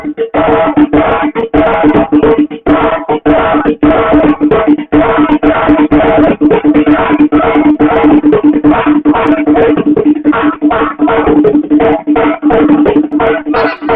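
A djembe is struck in a fast, unbroken stream of beats to mimic two trains crossing, loud and close throughout with no pauses and no voices.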